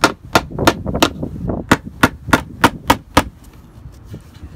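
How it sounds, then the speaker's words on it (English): About a dozen sharp hammer strikes flatten staples in a quick, slightly uneven rhythm, close and loud, then stop, leaving quiet background noise. "I will take my hammer now and just nail those down to get them as flat as possible"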